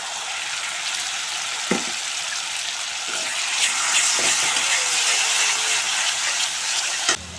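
Tomato paste and cashew paste fry in a pan for a rohu fish kalia curry, giving a steady close sizzle with a few sharp clinks of a spoon against the pan.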